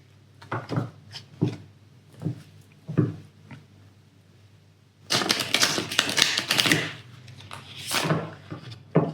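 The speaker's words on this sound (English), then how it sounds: "Just going to reshuffle my deck first." A deck of tarot cards is reshuffled close by, first as a string of separate soft taps and slides, then as a sustained busy riffle of cards rubbing and slapping together that keeps going to the end.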